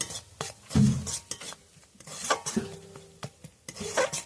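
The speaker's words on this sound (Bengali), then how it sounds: "স্বাদ মতো লবণ দিয়ে দেবো, পরিমাণ মতো হলুদ গুঁড়ো দিয়ে দেবো, ভালো করে মিশিয়ে নেব।" Salt and turmeric powder being stirred into spice paste in a pan, giving soft scraping and rubbing strokes at close range, irregular and fairly quiet, with no talking.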